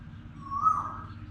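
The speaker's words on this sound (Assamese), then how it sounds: "চাওক, এই আম গছজোপাৰ মাতটো আহি আছে।" An Asian koel calls from a mango tree, giving a single faint, rising whistled note from some distance over a low hum.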